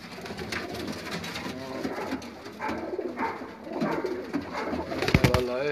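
Pigeons kept by fanciers coo in soft, repeated low phrases close by, with rustling and a sharper burst of movement near the end.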